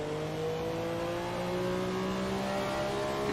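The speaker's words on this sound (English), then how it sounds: "Rolling into the throttle on that car and putting it into a drift like that" A Porsche 962 engine in Assetto Corsa, on a 1967 Silverstone track, revs hard and climbs steadily in pitch, a loud, continuous, close-up engine drone with no other sound.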